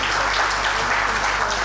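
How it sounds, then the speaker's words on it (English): Audience applause at a school event for students, a steady broadband wash of many hands clapping, continuous and fairly loud for a brief moment with no talking. "So let's give a big round of applause."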